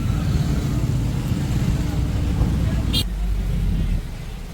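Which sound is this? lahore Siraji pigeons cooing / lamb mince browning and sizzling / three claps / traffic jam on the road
traffic jam on the road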